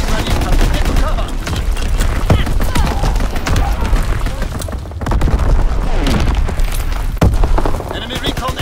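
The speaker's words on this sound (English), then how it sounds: "Incoming enemy artillery! Get to cover!" Relentless gunfire and heavy booms from an enemy artillery strike in Call of Duty World War 2 Domination multiplayer, loud and dense throughout with sharp impacts, while game announcer voices call out over the chaos.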